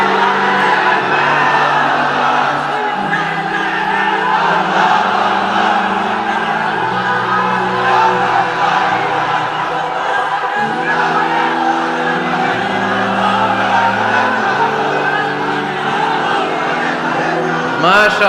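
A mass congregation at a large Islamic sermon gathering shouts in loud unison, sustained crowd voices filling the space continuously for the whole stretch.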